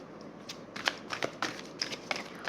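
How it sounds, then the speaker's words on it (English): Tarot cards being shuffled by hand in a quiet room, a run of soft, irregular papery riffles and taps at close range with no voices. "While I shuffle the cards,"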